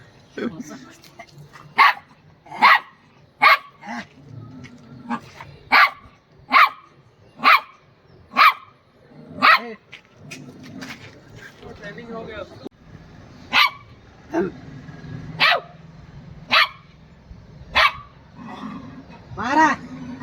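A dog barks again and again in loud, sharp single barks at an irregular pace, while people talk quietly between the barks.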